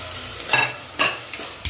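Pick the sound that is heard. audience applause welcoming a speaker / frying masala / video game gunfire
frying masala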